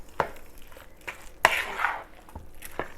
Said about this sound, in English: Now we will go ahead and stir this in.